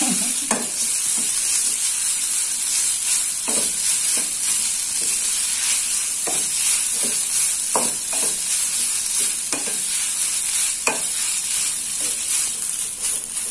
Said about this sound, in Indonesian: Jadi disangrai tanpa minyak.